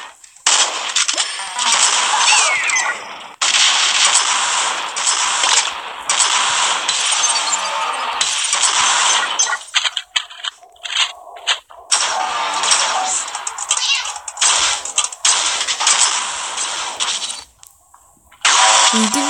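Video game gunfire in loud rapid bursts, automatic-sounding volleys separated by short gaps and clanking mechanical noises, with no talk over it.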